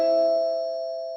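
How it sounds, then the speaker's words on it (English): A single chime strikes near the mic and rings out with a clean, sustained metallic tone that slowly decays over about a second, alone without voices. "My chimes"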